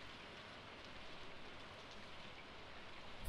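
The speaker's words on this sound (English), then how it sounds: "It's a raining day, which is great." Steady rain falls in the Stardew Valley farming game, a dense even patter holding at moderate level throughout with no talk over it.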